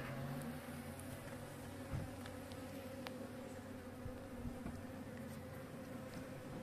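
A steady, dense buzz of many honey bees close by at a weak hive infested with varroa mites and wax moths, droning continuously with no voices.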